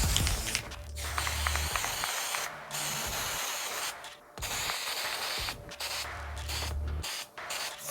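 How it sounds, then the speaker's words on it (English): Aerosol galvanizing compound sprayed onto Porsche 914 fog light mounting bracket hardware and spring clips, close hissing bursts of a few seconds each separated by brief pauses, with faint clicks of the nozzle. "I'm spraying some galvanizing compound on the mounting bracket hardware and the spring clips"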